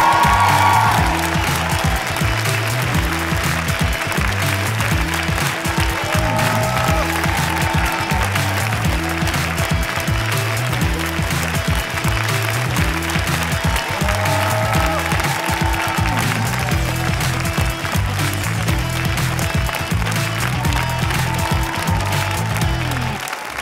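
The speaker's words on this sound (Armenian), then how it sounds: "Բարձր ծափարենք մեր տղաներին." A concert hall crowd at a national singing competition gala claps loudly and cheers for the performers, a sustained, even wall of applause with scattered whoops that lasts over twenty seconds.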